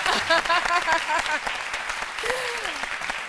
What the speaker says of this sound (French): On applaudit très fort votre épouse, hein?